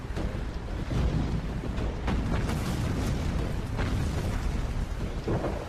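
Main naval cannons of a warship fire in the Pacific war game Battlestations Pacific, a dense run of deep booming blasts rolling over one another under a constant low rumble of battle.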